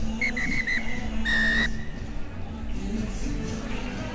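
Referee's whistle at an under-16 school ten-a-side football match: a string of short chirping blasts, then one long loud shrill blow over steady crowd and commentary murmur, with a voice talking across it.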